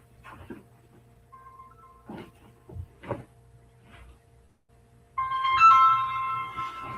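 A mobile phone rings in a quiet room, its electronic tones starting late and sounding fairly loud after scattered soft thumps and a dog's faint noises.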